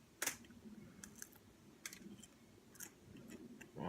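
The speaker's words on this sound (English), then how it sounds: "you can hear that, but it's got a nice crisp crunch to it." Someone bites into the crisp skin of a sous-vide then smoked pork trotter. Sharp crunches come close and quiet in a few separate bursts, with no talking.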